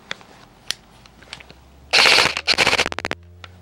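A Magpul PTS RM4 ERG airsoft rifle firing on full auto: a loud, close burst of rapid mechanical cracks, slowing into separate shots before stopping, with a few quieter clicks and handling noises around it.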